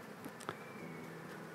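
A soft, steady buzz of honeybees around heather honeycomb hums close by, droning continuously, with faint clicks early on.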